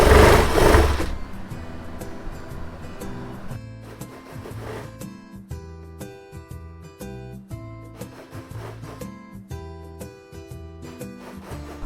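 A sewing machine stitches a salwar waistband, starting with a loud burst and then running in steady rhythmic runs with short pauses. Each run has a mechanical hum and clatter, heard up close with no talk.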